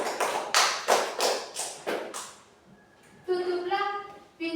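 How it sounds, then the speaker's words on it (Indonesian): A short burst of clapping from a small group in a classroom, several sharp claps in quick succession, then a voice speaks afterward. "Oke, tepuk tangan buat Endro."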